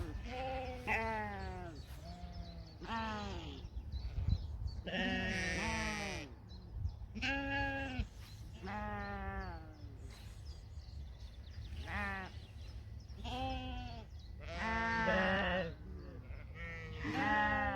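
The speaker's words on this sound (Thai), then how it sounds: "พาพี่น้องมาเบิ้งแกะค่ะพาพี่น้องมาเบิ้งแกะ" Sheep bleating on a farm walk: a string of loud, wavering baa calls from several animals, one after another, with brief gaps between them, heard close by over faint outdoor background noise.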